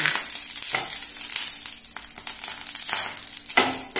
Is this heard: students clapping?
no